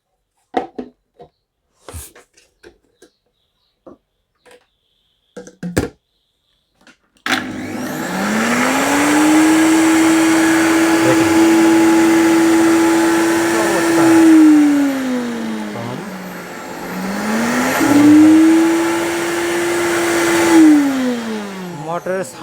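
A Miyako 32000 RPM commercial blender with its lid on starts after a few quiet taps and clicks. Its motor then whirs loudly for about fifteen seconds, spinning up and easing back twice in two clear ramps of pitch.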